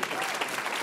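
Audience in a conference hall at a challenge finals plenary clapping, a brief dense wash of applause from many hands at moderate volume.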